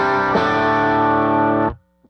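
An electric guitar runs through a yellow boost pedal set as a first stage driving the amp: a single sustained, gritty chord rings loud and steady for about a second and a half, then cuts off abruptly.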